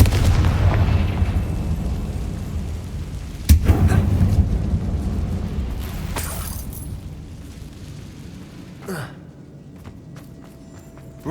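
A Confringo fire spell blasts in Hogwarts Legacy inside an abandoned mine, a sudden loud boom near the middle followed by a rumbling decay over steady low game ambience, with a second sharp burst later on.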